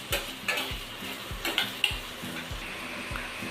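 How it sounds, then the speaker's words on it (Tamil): Onions, fennel seeds and green chillies sizzle in a pan for prawn masala, with a spoon scraping and stirring in quick, rhythmic strokes up close. "நல்லா வதக்கிட்டு"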